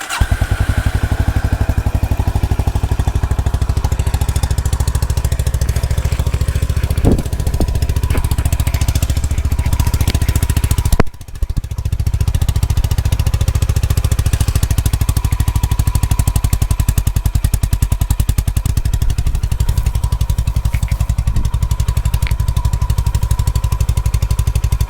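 A Honda CB350 RS motorcycle engine idles steadily and loudly nearby, a continuous rumbling throb that briefly dips midway before settling back into an even running note.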